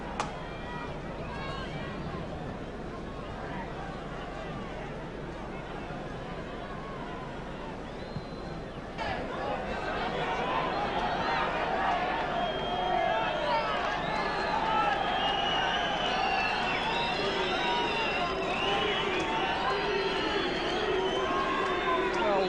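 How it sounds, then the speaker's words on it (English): Football crowd at Manchester United versus Newcastle United, a steady roar of whistling and booing that swells louder halfway through, with a commentator talking over it. "Whistles and boos from the crowd, but it's all formality now."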